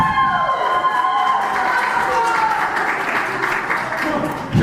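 A live wrestling crowd at a UKW Showdown event applauds and cheers steadily for a fan-favourite wrestler, a dense sustained roar of clapping and shouting from a packed hall.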